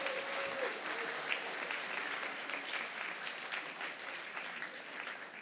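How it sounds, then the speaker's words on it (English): Audience at a student literature conference breaking into warm applause: a broad wash of clapping from many people, strong at first and tapering slightly, with a brief tone near the start. "give yourselves a big round of applause for just being incredible"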